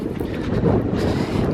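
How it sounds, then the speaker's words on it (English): Strong wind buffets a microphone outdoors during a North Texas wind storm, a continuous loud rumbling roar with gusty swells throughout, no speech. "It's windy out here, guys."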